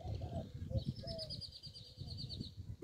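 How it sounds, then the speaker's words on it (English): Doves cooing in a park, soft repeated calls heard faintly at a distance, with other birds chirping over a low outdoor hum. "main reason I'm doing this video is those doves"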